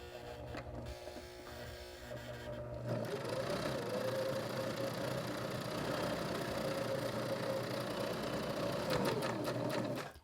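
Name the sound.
sewing machine top stitching tote bag handles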